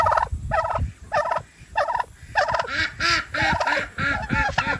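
A turkey gobbles repeatedly up close, loud rattling bursts coming in quick succession with short pauses between them.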